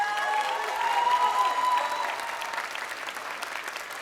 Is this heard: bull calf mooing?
no